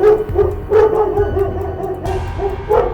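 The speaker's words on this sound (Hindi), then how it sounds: "तभी मुखिया का कुत्ता शोर मचा देता है" A cartoon dog's barking in an animated Hindi story: several sharp, close barks and yips spaced across a few seconds, loud and alone over a faint background.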